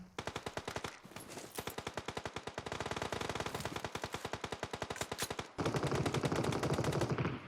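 Rapid automatic gunfire in PUBG Mobile on the Erangel map, long fast bursts of repeated shots with brief pauses, loud and close, then a heavier denser burst near the end, without talk.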